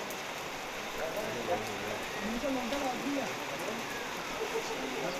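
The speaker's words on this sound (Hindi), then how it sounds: "बारिश लगातार हो रही है, रुकने का नाम नहीं ले रही है।" Steady rain patters on surfaces in a tribal village, a continuous soft hiss with scattered drops, moderately distant.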